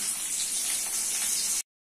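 Chopped onion dropped into hot oil in a pan after small bitter eggplant was fried, giving a loud, steady broadband sizzle that runs close and unbroken for most of the moment, then cuts off abruptly into silence.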